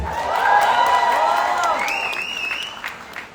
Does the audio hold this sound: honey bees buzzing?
no